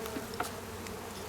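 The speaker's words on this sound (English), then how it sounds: "that noise they make. That's right before they're gonna sting. A little high-pitched buzzing." Honeybees buzzing during a hive inspection, a steady high-pitched drone close to the ear, fairly quiet and continuous with no talk.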